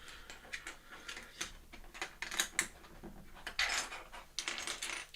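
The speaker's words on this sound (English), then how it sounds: "How can you not like the sounds of bricks, you know?" LEGO bricks handled during a build of the large Death Star set, faint clicking, rattling and plastic clatter in irregular bursts, close but quiet, with no voices.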